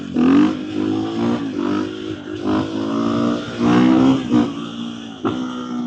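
A motorcycle engine revs hard during a wheelie through a turn. The loud, near rumble rises and falls several times as the throttle opens and closes.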